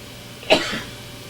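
An elderly woman gives a single short, sharp cough close by, with a brief throaty tail, in an otherwise quiet room.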